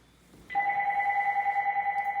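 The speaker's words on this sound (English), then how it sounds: "we have a landline and it was ringing, so I had to go answer my rotary phone" A rotary landline telephone starts ringing after half a second, a loud, steady electronic trill that continues without pause to the end.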